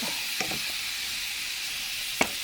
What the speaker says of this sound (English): let me stir it up